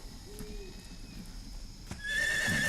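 A horse in Metal Gear Solid 3 lets out a loud whinny alone, its bright, shaky neigh swelling at the end over quiet game ambience.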